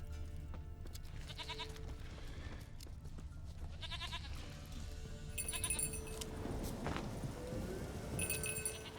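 A goat in The Witcher 3: Wild Hunt bleats in several short wavering calls spaced a few seconds apart, clear over a faint game ambience, with hoof clops and a louder rustle toward the end.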